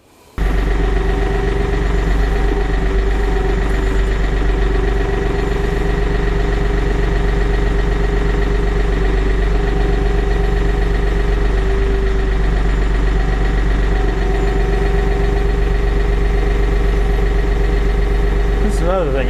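Steady low rumble of a tractor engine idling nearby, constant and droning for the whole stretch with a faint mechanical hum.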